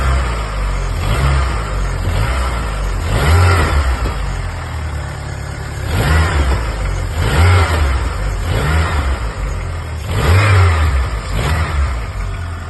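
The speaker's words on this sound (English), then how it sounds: "And the car sounds so much better, look at it. Listen." A Volkswagen Golf Mk3.5 engine runs steadily, revving up several times in repeated surges before settling back to idle, close and loud, with no talking.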